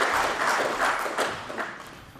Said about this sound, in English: So a round of applause for Mr. Ali, ladies and gentlemen.